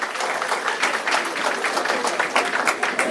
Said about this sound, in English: Please give him a hand. Clap for him.